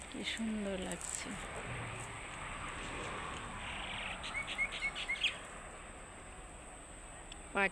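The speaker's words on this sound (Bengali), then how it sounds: "পাখি ডাকছে" Outdoor birdsong in open countryside, with several close chirping calls and a cluster of sharp tweets near the end, heard over a steady airy background hiss.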